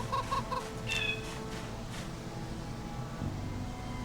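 A few soft chicken clucks near the start in Project Zomboid, then a quiet low hum with faint game-like ambience continuing underneath.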